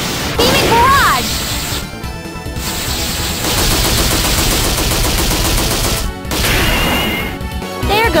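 A dense, loud rapid-fire barrage with heavy impact crashes and bursts plays as the Beaming Barrage finishing attack in the Valkyrie Profile: Covenant of the Plume video game, continuous with brief pauses, mixed with game music.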